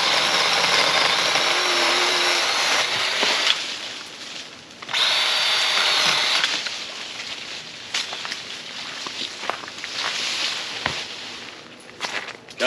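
Black & Decker cordless power tool cutting branches in a fall garden, a high whirring motor in two bursts followed by rustling, snapping and footsteps nearby.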